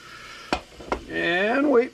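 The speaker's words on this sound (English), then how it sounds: "And then throwing some of these sweet onion pieces." Sweet onion pieces dropped into a hot pan, two quick thuds followed by a rising steady sizzle, close and fairly loud, with a voice briefly audible at the end.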